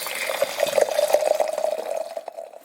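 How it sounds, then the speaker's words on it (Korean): Hand-brewed bowl coffee being poured by a monk at a mountain temple, a steady close trickle of liquid running continuously for a few seconds with no voices. "이 커피 내려주시는 스님"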